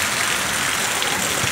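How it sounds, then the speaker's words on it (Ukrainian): Steady rain pours down outdoors, a dense, even hiss throughout with no distinct drops or voices. "От такий дощ."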